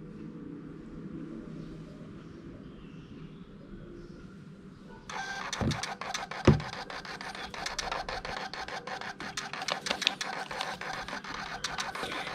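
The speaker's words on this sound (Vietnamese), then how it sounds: "Bây giờ mình in lại cho các bạn xem nha." A PT210 Bluetooth thermal printer prints a sales receipt, its fast mechanical whir and clicking starting abruptly partway through after a quiet stretch and continuing close and fairly loud to the end.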